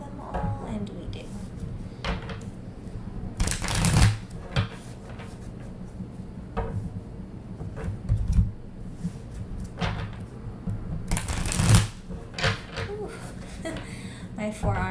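A deck of cards is shuffled, with two sharp riffling bursts and lighter shuffling taps and handling sounds between them, while someone talks quietly at times.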